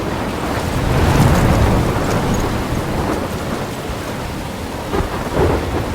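Heavy thunderstorm from the video game Life Is Strange, with a deep thunder rumble swelling early then rolling on under constant loud rain hiss, no voices.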